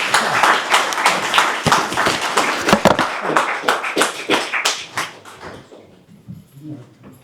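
An audience applauds after a lecture, a burst of dense clapping that fills the room, loud and close, then thins out and fades toward the end.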